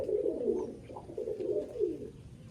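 Pigeons coo steadily in a loft near Baruipur, a soft, low, rolling murmur of several birds that carries on throughout with no talk.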